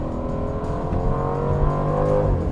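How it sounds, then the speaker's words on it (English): A 2023 Aston Martin Vantage F1 Edition accelerating hard, its exhaust rising in pitch with a brief crackle near the end, loud and close with no talking. "the crack from that exhaust is crazy"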